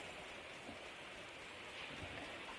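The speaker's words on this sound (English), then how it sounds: "It is raining." Quiet, steady rainfall in the video game Spyro: Year of the Dragon hisses softly, a continuous wash of drops pattering on surfaces with no voices.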